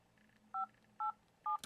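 Samsung Wave S8500 touchscreen keypad dialing: three short, clear dual-tone beeps spaced about half a second apart, quiet and close over a faint background hum.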